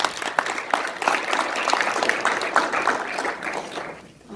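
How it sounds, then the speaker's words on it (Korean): Applause from an audience at a North Korean human rights forum, a steady crowd of hands clapping for several seconds and then tapering off at the end. "뜨거운 격려의 박수 부탁드립니다."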